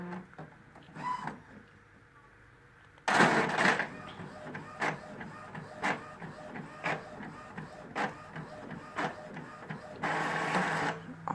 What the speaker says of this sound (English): So I'm going to go ahead and send it to my printer.